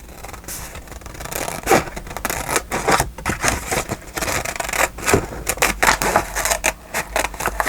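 Close, crunchy snips and scraping rubs as a dried handmade craft piece is cut, coming in irregular bursts with small pauses over a faint steady background.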